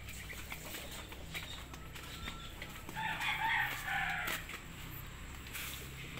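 Rhode Island Red chickens in their coop, with clucking and a crowing call rising in the middle amid steady farmyard background noise.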